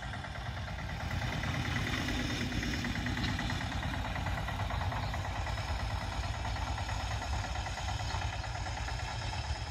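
An Eicher tractor engine runs steadily with a close, continuous mid-low throb and a faint knocking rhythm throughout, no voices over it.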